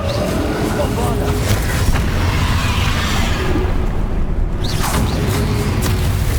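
A Bombarda spell explosion in Hogwarts Legacy gives a deep booming burst over a continuous rumbling bed of game sound, with a brief hush just before the blast.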